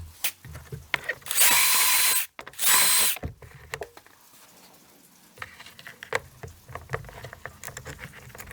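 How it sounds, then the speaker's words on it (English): Screw gun backing two Phillips screws out of a Subaru puddle light, two short loud whirring bursts close by, followed by quiet clicks and handling noises. "we'll go ahead and grab that screw gun and go ahead and remove these 2 Phillips screws"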